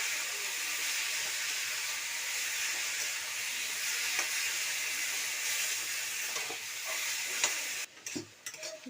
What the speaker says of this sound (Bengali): ছাতুটাতেও একটু লবণ আর হলুদ দিয়ে ভেজে নেব।